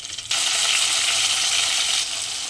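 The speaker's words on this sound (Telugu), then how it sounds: "ఇప్పుడు ఇందులో సన్నగా స్లైసెస్ కింద కట్ చేసి పెట్టుకున్న టమాటా ముక్కల్ని వేసుకోవాలి." Thin-sliced tomatoes drop into hot tempering for sabudana khichdi, setting off a loud, steady hiss of frying oil that surges at once and holds close, easing slightly near the end.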